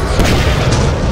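An explosive item blows up in the video game Lethal Company, a loud, continuous booming roar that fills the whole moment with dense low rumble and no talking over it.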